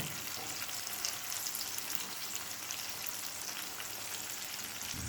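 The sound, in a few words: tomato frying and being stirred in a pan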